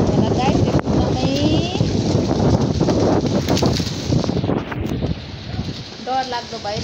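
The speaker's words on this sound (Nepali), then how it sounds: "रुखको पातहरू झारेर एकदमै हावा चलेर डेन्जर भइरहेछ" Strong wind blows through trees and strips their leaves in Salbari, Jhapa, making a loud, steady roar with heavy microphone buffeting; faint voices or bird calls sit briefly underneath.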